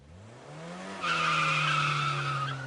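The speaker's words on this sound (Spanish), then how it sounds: "¿Qué pasa con su cuerpo al escuchar un frenazo y usted está en una moto?" A long, loud tire screech from sudden hard braking rises and holds for about two seconds.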